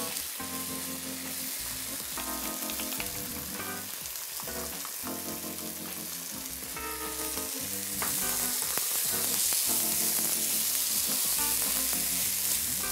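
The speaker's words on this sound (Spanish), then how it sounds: "Importante este rehogo, ya lo veis, que es un rehogo" Tomato and other ingredients sauté in a pan over lowered heat, giving a steady, close sizzle and crackle that runs unbroken throughout and grows slightly louder and brighter toward the end, with no talking.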